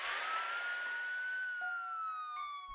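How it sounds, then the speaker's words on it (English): A single siren wails in a long rising and falling sweep, somewhat distant and faint, with a few soft knocks near the end. "And as the sirens approached"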